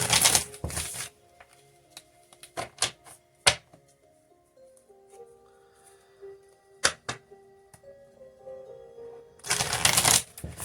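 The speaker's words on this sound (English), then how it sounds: "I'm going to get my tarot deck here. I want to pull some more cards, at least one more." A deck of tarot cards shuffled by hand, with loud riffling bursts at the start and end and scattered crisp card flicks and taps between, close up, with a soft tonal hum underneath and no speech.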